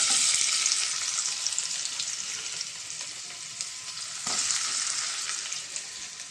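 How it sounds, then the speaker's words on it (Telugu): Sliced onions frying in hot oil in a kadai for a prawn and gongura curry, a steady broad sizzle that stays loud throughout, with a brief surge of crackle partway through as more goes into the pan. "ఇప్పుడు ఉల్లిపాయలు వేసుకుందామండి."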